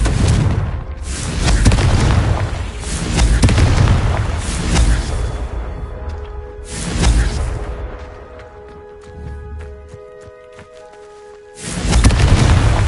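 Repeated Confringo blasting spells explode in Hogwarts Legacy, heavy booming bursts with rumbling tails that arrive every few seconds, loud and close, with quieter magical tones ringing between blasts.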